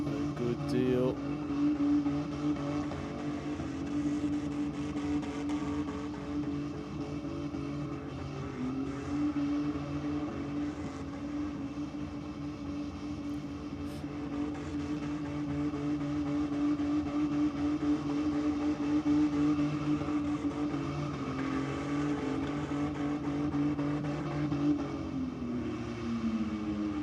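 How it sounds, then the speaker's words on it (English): A car does a sustained burnout at a Race 4 Real drag racing event. It produces a loud, steady engine roar with screeching tyres that runs continuously for almost half a minute, with a little distant voice underneath. "That's 3 minutes of burnout goodness."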